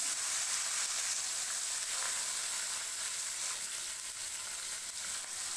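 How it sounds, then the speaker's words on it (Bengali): Fish frying in hot mustard oil in a wok gives a dense, even, high-pitched sizzle that holds at a constant level throughout, close by and with no voices. "কড়াইয়ে তেল গরম হয়ে গেছে, এবার মাছগুলো ভেজে নেব।"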